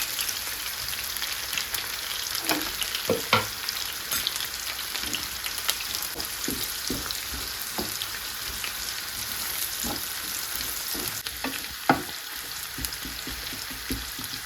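Onions and curry leaves saute in a pan with a continuous soft sizzle and crackle, scattered pops and occasional stirring taps, close and moderately quiet with no talking.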